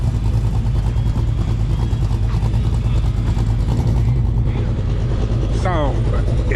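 A supercharged 383 engine rumbles loudly and revs at an outdoor car show, a constant heavy growl with crowd chatter and voices over it.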